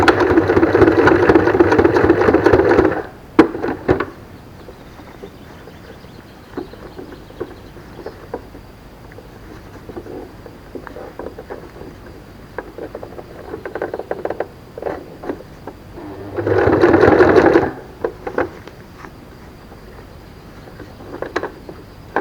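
Sewing machine stitching a fabric scrunchie, running in two short bursts at the start and again later, separated by long quiet stretches of light handling sounds.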